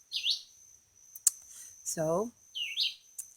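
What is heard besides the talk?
loud bird chirping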